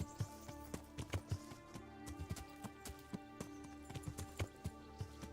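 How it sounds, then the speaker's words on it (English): Horse hooves clip-clop steadily while riding in the video game Kingdom Come: Deliverance, a brisk, even rhythm of close, distinct hoofbeats over a low hum of game background music, with no talking. "Henry here isn't very good at riding a horse yet."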